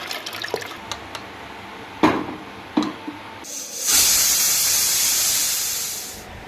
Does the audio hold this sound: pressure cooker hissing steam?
yes